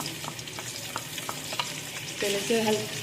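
Onions and garam masala fry in hot oil, a steady close sizzle broken by light rhythmic stirring taps, with a brief higher scraping squeal of the spoon near the end.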